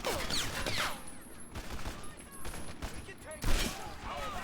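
Gunfire in the video game Medal of Honor Airborne: dense bursts of rapid shots and cracks with echoing tails, loud and continuous, with someone talking over the action.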